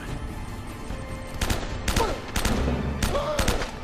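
Gunfire and grenade blasts from the video game Uncharted: Drake's Fortune come as rapid bursts of shots and thumps over a dense, continuous game soundscape.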